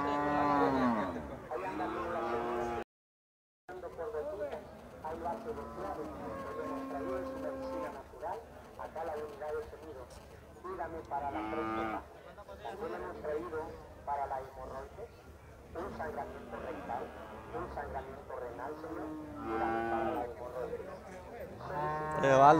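Dairy cows mooing repeatedly at a livestock market in Nueva Guadalupe where milk cows and foals are brought for sale, loud close calls with a crowd murmuring and people talking between them.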